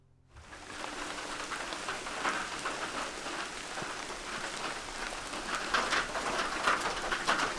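Steady rain falls outside a tiny-house cabin on a morning in Denmark, a dense, even patter of drops on surfaces that holds at a moderate level throughout, with faint pigeon-like cooing in the background and no speech.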